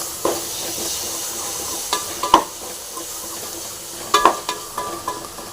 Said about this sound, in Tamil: அதை சேர்த்துட்டு தக்காளி கூட நல்லா ஃப்ரை நல்லா வதக்கலாம்.